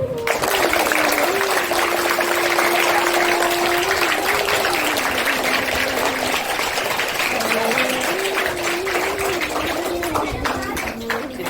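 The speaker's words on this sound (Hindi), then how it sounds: "एक बार इनके लिए जोरदार तालियां" Sustained crowd applause with steady clapping filling the whole stretch, a single voice briefly heard over it.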